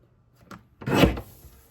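A paper trimmer slices through a cardstock strip in a single quick, close swish, preceded by a couple of faint clicks as the blade is positioned.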